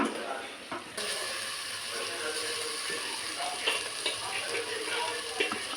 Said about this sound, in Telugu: ఫస్ట్ మ్యారినేట్ చేసి పెట్టుకున్న బోటీని మనమైతే స్టవ్లో వేసేస్తున్నాం